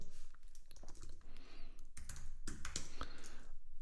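Rapid clattering keystrokes on a computer keyboard as a terminal command is typed, dense and continuous with a few louder key hits, close up and without talk.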